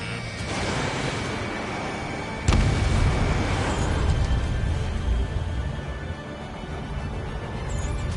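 A fighter jet's steady roar in the Ace Combat 7 flight combat video game is broken by a sharp, heavy boom from a missile launch and explosion, and the rumble continues after it.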